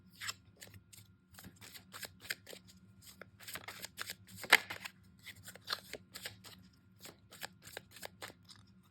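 A deck of tarot cards is shuffled by hand in a quiet room, giving soft, rapid papery flicks and riffles in irregular bursts.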